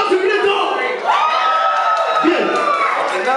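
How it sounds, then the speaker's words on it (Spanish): Concert audience in Mexico, heard as a crowd cheering and whooping with rising yells and a swelling roar, loud and close, though clapping is not distinct. "¡Aplauso, grito!"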